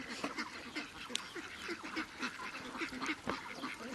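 Ducks quack in a busy, overlapping chorus at moderate distance by a pond, a steady stream of short nasal calls.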